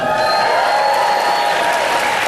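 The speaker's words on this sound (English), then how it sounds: "Give Bill a round of applause, guys." An audience at a business talk gives a round of applause for a man named Bill: a dense, steady wash of clapping with a thin tonal whine running through it and no talk.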